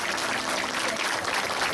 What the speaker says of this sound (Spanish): Yo sí le pido un fuerte aplauso para Rocío